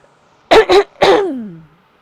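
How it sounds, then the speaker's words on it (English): A person clears their throat indoors: two quick, harsh rasps followed by a longer gravelly clearing that trails off, close and loud with silence around it. "I'm just going to clear my throat a second."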